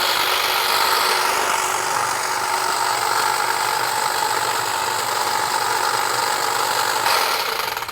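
An extended pole hedge trimmer with a fast-moving sickle blade cuts rigid Colorado blue spruce branches, giving a loud continuous motor buzz with rough cutting rasp throughout and no talk.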